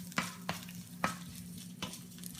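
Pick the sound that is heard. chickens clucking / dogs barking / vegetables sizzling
vegetables sizzling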